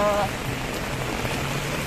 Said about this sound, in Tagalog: Sobrang lakas po dito ng ulan.